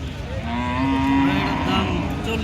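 A brown calf at a busy cattle market gives a loud, close, drawn-out moo lasting a couple of seconds.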